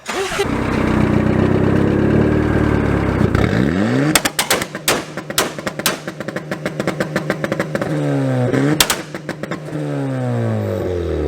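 A turbocharged Honda Prelude at a dyno center idles roughly, then its engine rises and dips in a series of uneven revs and sputters as the clutch is worked while reversing, the motor loud and close throughout.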